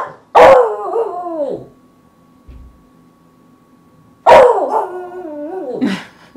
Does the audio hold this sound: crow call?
no